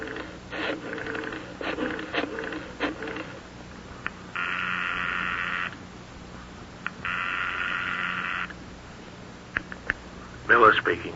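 A telephone in an old radio drama, heard as two long sustained electronic ringing bursts with brief clicks and handling noises between them, all fairly close.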